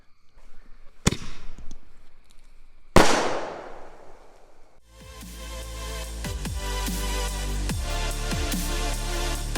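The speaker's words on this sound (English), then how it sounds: "now here goes the premium Willow shells" Premium Willow shell consumer fireworks going off in a backyard: two sharp launch bangs with crackling tails, then a dense, continuous roar of crackling and popping bursts that swells and keeps going.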